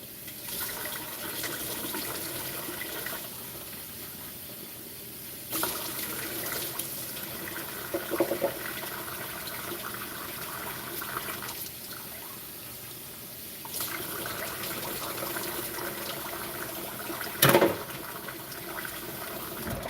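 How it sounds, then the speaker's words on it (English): Tap water runs steadily over canned mackerel as the fish is rinsed after being taken out of the tin, a continuous splashing gush with a few brief louder bursts and no talking. "throw them out of the tin and wash them off with water"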